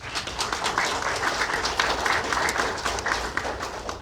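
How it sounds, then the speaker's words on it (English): Hospital staff at a COVID-19 remembrance event at Jefferson Regional Medical Center applaud together, a continuous crowd clapping in a large space, fairly loud and even for the whole stretch. "So please give yourself a round of applause."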